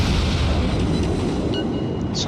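Naval gunfire shells striking an enemy ship in World of Warships, fired from a Tier IV American cruiser Phoenix, producing a dense, continuous low rumble of explosions throughout with a few brighter metallic impact pings toward the end.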